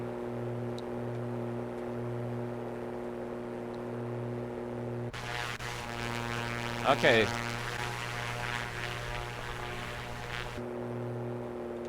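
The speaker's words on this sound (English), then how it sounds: "we're gonna cut one of the engines out here" A twin-engine aircraft in the A2A Accu-Sim 600 flight simulator for MSFS 2024 has one engine cut out: a steady propeller drone shifts into a rougher, harmonic-rich roar, then settles back to a hum, with a brief spoken word partway through.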